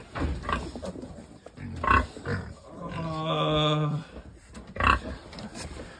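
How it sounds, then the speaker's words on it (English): Baby pigs grunt and squeal close by in a pen, a drawn-out tonal squeal standing out among rough snorts, while people talk and laugh over the animal noises. "there's baby pigs in here."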